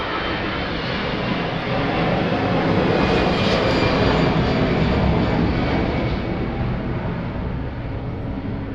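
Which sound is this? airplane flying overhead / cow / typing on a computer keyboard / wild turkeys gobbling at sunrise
airplane flying overhead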